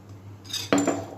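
A spoon clinks and scrapes against a pot while stirring mutton ghugni, a gravy curry with added water, sugar and garam masala, with a few close metallic knocks and no talk.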